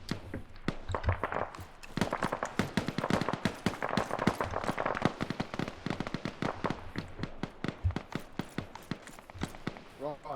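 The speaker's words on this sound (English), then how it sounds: "it sounds like an anti-aircraft cannon. It goes dunk dunk dunk." Rapid, evenly spaced heavy cannon reports from an anti-aircraft gun in an ArmA-style military video game, a long sustained burst of loud thumps with some voices talking underneath.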